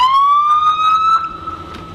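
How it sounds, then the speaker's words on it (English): A loud electronic police car siren wails steadily with a rising pitch, close and unbroken, with no talking. "The siren is also located up here"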